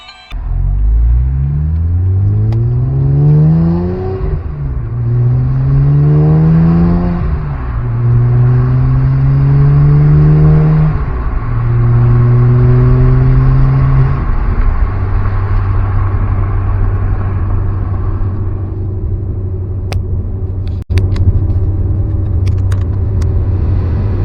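A car on a test drive accelerates through several gears, its engine note climbing repeatedly before settling into a steady cruising rumble, loud and close from inside the cabin.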